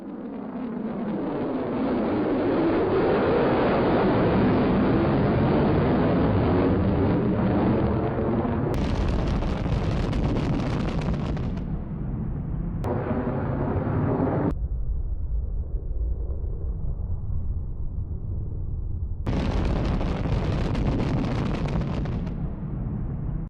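Loud, sustained roar of a B-1B bomber jet at full power during a flypast, rumbling and swelling for several seconds before breaking into thunderous bursts and gaps of lower rumble near and close by.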